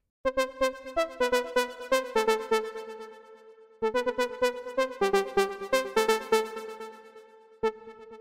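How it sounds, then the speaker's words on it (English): A bright, buzzy saw-style synth lead in a deep, melodic house style plays quick plucky notes in a bouncy melodic phrase, each with a sharp attack, pausing briefly before repeating. "which is more of a Saw inspired lead with a bit of attack,"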